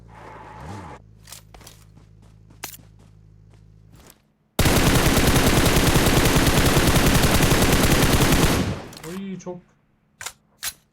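Automatic rifle fire sprays continuously for about four seconds in PUBG Mobile, a loud, rapid unbroken stream of shots between quieter stretches of footsteps and a few isolated clicks and pops.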